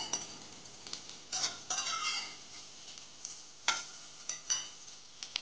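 Beet cutlets are flipped in a frying pan: a spatula clinks and scrapes in scattered bursts over a faint sizzle, close and fairly quiet, with no one talking.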